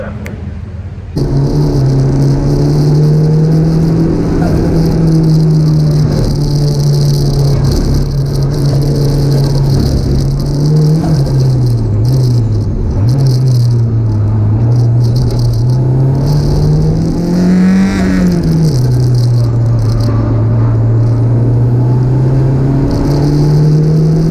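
A race car lapping Cadwell Park during a time attack session, its engine a steady close drone that rises and dips with revs and gear changes, with a constant rattling whir and no voices.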